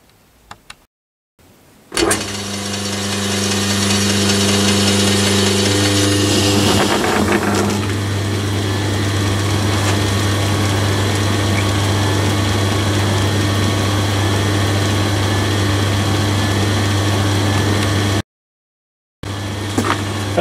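A lathe motor fitted with new brass bushes between the pulley wheel and motor end starts up after a couple of seconds, then runs with a loud, steady hum until a brief cut near the end.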